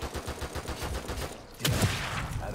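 Gunfire from the horror video game The Evil Within 2 comes as a rapid series of muffled shots, followed by a sharper louder blast partway through.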